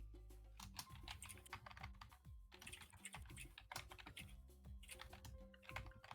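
Rapid typing on a mechanical keyboard, a dense run of sharp clicking keystrokes in uneven bursts with brief pauses, close and fairly quiet, with no voices.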